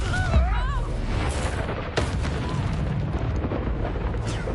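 Confringo explosion spell cast in a Harry Potter video game, a loud booming blast over a rumbling battle backdrop, with a sharp secondary burst partway through.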